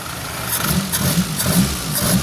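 A Suzuki Forsa car engine idles steadily up close while its carburetor is being adjusted, giving a continuous mid-pitched rumble with faint, regular ticking pulses throughout.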